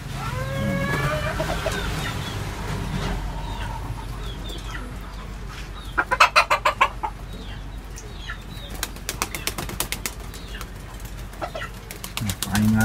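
A flock of racing pigeons and breeder pigeons flutters and flaps wings in repeated bursts at feeding time, with soft cooing and clucking throughout and a few sharp wing claps.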